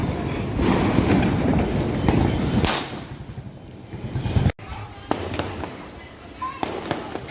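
A dense crackling burst of small firecrackers going off rapidly at Diwali, then fading to scattered pops with voices nearby.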